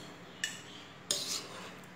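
Utensils clink against a pot and plate as a cheese and egg dish is served out, two sharp metallic clicks a moment apart followed by a brief scrape, close and fairly quiet.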